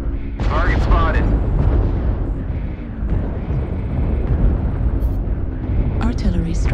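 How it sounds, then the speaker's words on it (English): An artillery strike pounds a position in a video game, with continuous loud rumbling blasts and booms layered densely over one another, up close, while a voice speaks over the barrage. "Artillery strike activated."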